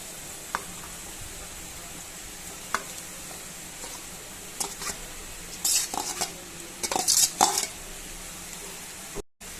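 Boiled tapioca being stirred with grated coconut in a pan, Kerala style, with the spoon making soft scraping and clinking sounds that turn busier and louder toward the end, over a light sizzle.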